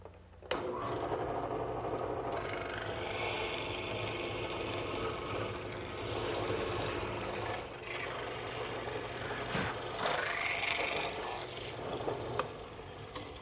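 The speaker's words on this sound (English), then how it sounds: "as the drill press pushes down, the drill will start the hole and the chisel will square it up" A drill press fitted with a hollow chisel mortiser bores square mortises into a wooden rail in a workshop, a steady whirring grind running nearly unbroken with faint knocks and a rising squeal as the chisel cuts.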